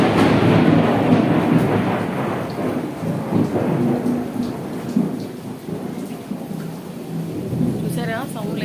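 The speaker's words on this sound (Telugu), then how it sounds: "చూసారా సౌండ్లు ఏ రకంగా వస్తున్నాయో, మన మెరుపుల సౌండ్లు" A heavy morning rainstorm roars steadily close by, with low rolling thunder rumbling through it and fading toward the end.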